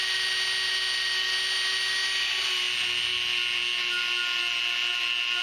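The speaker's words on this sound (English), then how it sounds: "now I'm going to test the Dremel with the wire brush out on this piece of rusty metal" A Dremel 4000 rotary tool spins a wire brush against a piece of rusty metal, giving a steady high-pitched motor whine with faint scratching that holds evenly for several seconds, alone and without talk.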